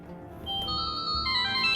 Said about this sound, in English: I could give the residents a little taste of the future with one of the ringtones.